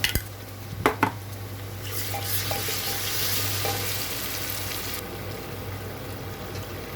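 Onion, chili, ginger and garlic fry in a pan for a mixed vegetable curry, a steady sizzle opening with a few sharp clanks of a utensil against the pan, then continuous frying with light stirring and no talking.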